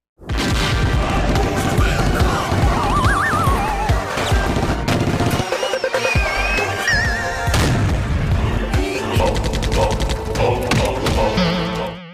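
Loud booming land mine explosions in a river crash one after another, thick and rumbling, layered with dramatic music and effects.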